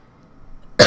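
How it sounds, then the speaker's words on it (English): A single sharp cough bursts out abruptly at the end after near silence, close to the microphone. "see, coughed again."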